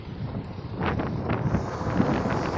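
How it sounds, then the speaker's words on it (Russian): Strong wind buffets the microphone of a cyclist riding with a powerful tailwind, a continuous rough roar with gusty surges, close and loud, with no voices. "И попутный ветер настолько сильный, что даже педали не крутил, меня так дует, сдувает"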